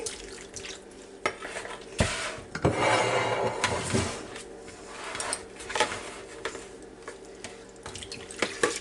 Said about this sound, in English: Pour it into your dish.